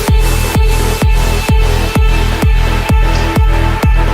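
The first drop of an uplifting trance intro produced in FL Studio: a steady four-on-the-floor kick thumping about twice a second under a dense, loud, bright synth wash, with no voices.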